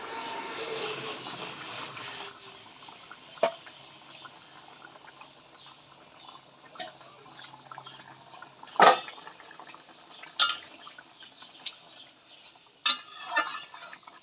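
Fish added to a boiling curry and stirred, a faint bubbling simmer at first, then quiet stretches broken by a few sharp clinks of a spoon against the pot.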